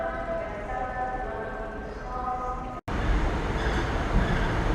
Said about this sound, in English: arriving here at York Station from Leeds